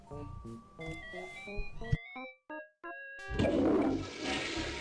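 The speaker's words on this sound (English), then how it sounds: "You really flushed them. Yes. Down the toilet." In the video game Day of the Tentacle, a cartoonish toilet flush rushes in with a loud, noisy gurgle after a run of plinking musical notes. It is heard clearly and close up.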